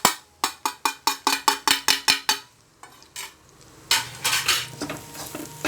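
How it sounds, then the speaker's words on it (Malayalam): Ground masala and spices stirred in a cheenachatti while making chicken curry, opening with about ten rapid, evenly spaced metallic clanks of a ladle against the iron wok, then looser scraping and sizzling up close. "നല്ലവണ്ണം ഇളക്കി വരുമ്പോൾ ഈ പരുവമായി വരും."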